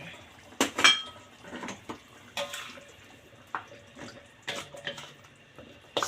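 Chestnuts drop into a pot of simmering braised pork belly with chestnut and shiitake, giving sparse clatters and splashy knocks against the pot, with quiet gaps between them.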